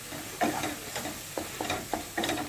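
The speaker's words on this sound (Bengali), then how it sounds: "1/2 চামচ আদা, 1/2 চামচ রসুন বাটা দিয়ে দিলাম, দিয়ে একটু ভালো করে ভেজে নেব" Ginger-garlic paste and green chillies frying in a pan for prawn malai curry, a low sizzle with a series of quick scraping stirs in uneven rhythm, close and fairly quiet, no voices.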